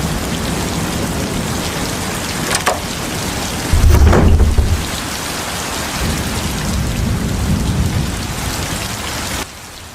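Heavy rain pours steadily onto surfaces at night, loud and close, while a deep roll of thunder booms partway through during the thunderstorm, with no voices.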